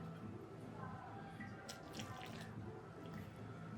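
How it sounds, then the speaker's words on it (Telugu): Water trickles and drips faintly as it is poured into parotta flour dough in a home kitchen, a soft steady flow with a brief splashier burst in the middle. "ఇప్పుడు వాటర్ వేసుకుందాం"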